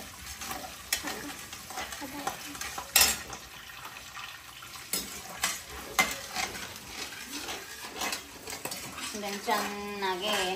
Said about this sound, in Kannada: ಹಿಂಗೆ ಅದು ಬೇಯೋವರೆಗೂ ಗುರಾಡಬೇಕು